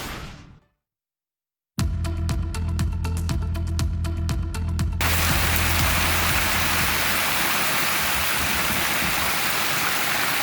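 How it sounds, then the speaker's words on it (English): Hail falling outdoors in Dorr, Michigan, a loud dense patter of stones on surfaces, starting after a brief silence and continuing steadily close by with no voices. "we saw some more hail coming down out there today"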